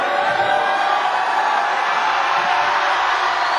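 Crowd roaring and cheering at a high school basketball game during a late free throw in a close tournament matchup, a dense, steady wall of loud noise filling the whole span.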